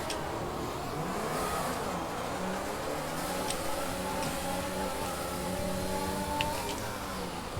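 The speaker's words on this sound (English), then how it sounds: "5 red lights at the Styrian Grand Prix at the Spielberg circuit, and away we go." F1 2020 video game cars accelerating off the line at the Styrian Grand Prix start at the Spielberg circuit, a dense layered drone of rising engine whine that climbs steadily and stays loud throughout, with no talk.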